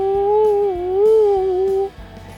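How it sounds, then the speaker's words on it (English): A single long, wavering dog howl rises and falls for about two seconds, then stops abruptly. "they heard a strange noise. Howl!"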